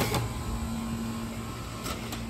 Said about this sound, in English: Those motors don't sound good either.